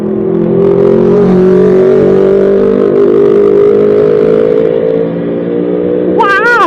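Big bike motorcycle passing on a curvy road in the Philippines, heard from a rider on a Vietnamese scooter. A loud, close, steady engine drone holds throughout and dips near the end under a brief rising tone.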